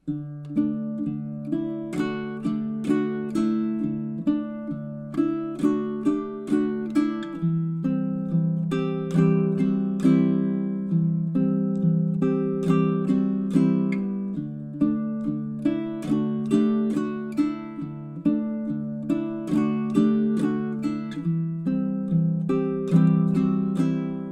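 A baritone ukulele is played fingerstyle through a simple two-chord theme with a repeat, plucked notes ringing in a steady, even rhythm alone and close.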